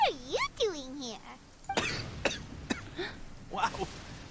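A character in the video game Genshin Impact gives several short, harsh coughs in quick succession, following a stretch of voiced dialogue.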